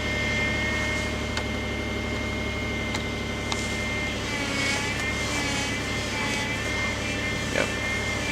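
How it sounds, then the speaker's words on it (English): A car's power steering pump whines through a cold start, a thin steady tone riding over the low idle of the engine, fairly quiet with a few small clicks and no talk. "Pretty sure that was the power steering pump making that whine noise."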